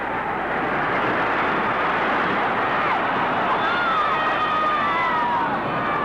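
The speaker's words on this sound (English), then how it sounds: "Heard a lot of noise from this crowd." Crowd roar at a 1952 roller derby game between the Chiefs and the Jolters at Madison Square Garden, New York, a dense continuous noise of cheering fans with whistles, heard on a hissy vintage broadcast recording.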